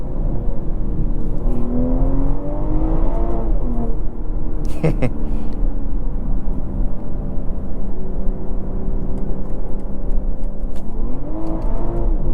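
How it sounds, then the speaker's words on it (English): A 2024 BMW M340i Special Edition revs hard and bounces off the rev limiter, and the engine note drops on a downshift. The loud, steady engine drone heard from inside the car stays constant throughout, with a sharp crackle in the middle. "Oh, that rev limiter sound good. Oh, the downshift, man."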